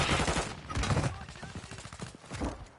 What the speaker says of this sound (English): Oh my god, all those shots